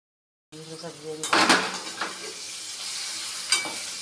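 Peanuts fry in a kadai for a strictly vegetarian offering; after a brief silence a utensil clatters against the pan, followed by rattling stir scrapes and a steady sizzling hiss with a few sharper metallic knocks.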